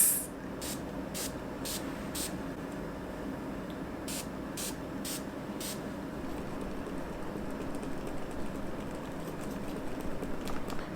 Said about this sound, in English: I'm gonna take the dewy one now and apply it on my cheeks.